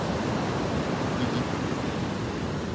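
Morning waves at Taman beach, a steady, moderately loud wash of surf with a soft wind-like hiss and no distinct breaks between swells.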